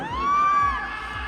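Fans at an EP launch event let out a single sustained, high-pitched shout that rises, holds for about half a second, then fades over a low crowd murmur.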